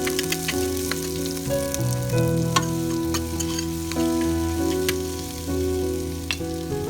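Chopped onion sizzles steadily in hot oil in a pressure cooker pot while cooking a beef kare kare stew, a close, continuous frying crackle with occasional stirring and soft background music.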